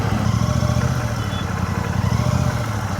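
Royal Enfield Classic 650 motorcycle ridden in second gear, its parallel-twin engine giving a steady, loud, low thumping rumble that pulses evenly throughout.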